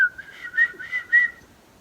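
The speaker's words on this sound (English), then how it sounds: "Can you whistle?" A person whistles a short, clear tune of four or five sustained notes, close and alone in a quiet room.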